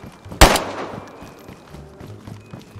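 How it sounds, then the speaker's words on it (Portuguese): A single sharp gunshot cracks close by in the survival game DayZ, followed by a short decaying echo and quiet background rumble. "Vamos ver de onde tá vindo esses tiros."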